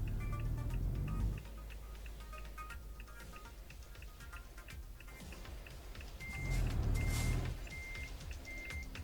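Truck reversing alarm in Euro Truck Simulator 2, a steady run of evenly spaced high beeps over low engine rumble, with the engine swelling louder briefly near the end.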